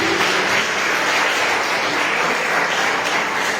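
Church congregation applauding during a Portuguese-language evangelical service, a steady, dense wash of many hands clapping at even loudness throughout, filling the room with no voice on top.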